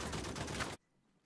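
Blind fire from a Pack 80 in the video game Uncharted 4 multiplayer: a rapid automatic burst rattles steadily for under a second, then cuts off abruptly into quiet.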